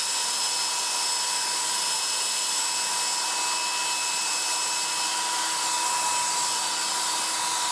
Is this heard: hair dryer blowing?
yes